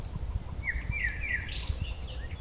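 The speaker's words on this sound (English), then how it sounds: "the only sound we have is birds chirping" Birds chirp and tweet in a few short, bright calls over a steady low outdoor rumble in grasslands near Kamloops, fairly faint and somewhat distant.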